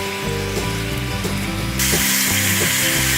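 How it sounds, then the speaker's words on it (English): Pork pieces fry in hot oil with a loud, continuous close sizzle that grows brighter and more intense partway through, no voices. "First, you need to fry the pork."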